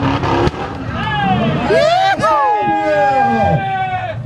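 A car doing a burnout at a track day, tyres spinning and squealing in rising and falling screeches over a loud engine, with a crowd shouting and people talking throughout.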